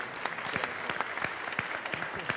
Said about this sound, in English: round of applause for Mike, please